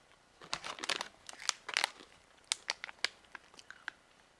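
Roasted broad bean crisps coated in rice flour, garlic and onion flavour, handled and crunched up close in quick crackly bursts with crinkling of the snack bag, fairly soft and without talk.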